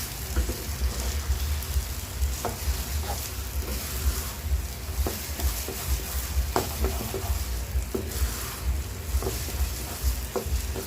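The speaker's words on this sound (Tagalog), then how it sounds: "halo-halo lang ito. Hanggang sa totally dry." Biko, a Filipino sticky rice mixture, being stirred in a pan until dry, with a steady low sizzle under irregular scraping and knocking strokes of the spoon against the pan.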